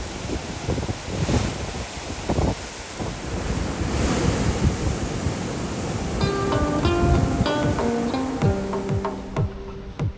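Sea waves wash against the Venice waterfront under a steady sea breeze, with continuous surf and wind rumble; a faint run of tonal notes rises in the background toward the end.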